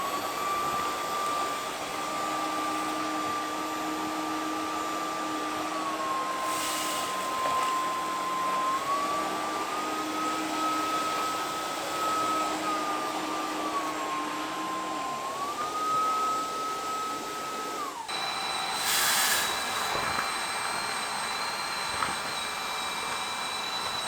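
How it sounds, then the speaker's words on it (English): Wet dry vacuums, a Dreame H12 Pro FlexReach and a Tineco ONE S5, clean up spilled milk, water, rice, oatmeal and cereal, a continuous loud whining motor drone with shifting pitch that changes character near the end. "we're going to see how much that each wet dry vac can clean up in its first single pass"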